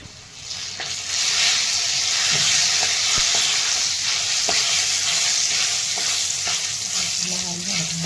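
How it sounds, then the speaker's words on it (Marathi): Garlic tempering for a sour chuka greens dish crackling in hot oil, a loud, close, continuous sizzle and hiss with scattered pops and light stirring scrapes throughout, no voices. "नंतर तेल टाकलं आणि चांगली फोडणी देऊन द्यायची"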